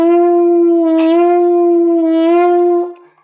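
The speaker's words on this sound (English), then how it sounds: "That we can actually use our hand to bend the note," A single sustained French horn note, bent by the player's hand in the bell, holds steady and close for about three seconds with slight pitch wavers before fading out.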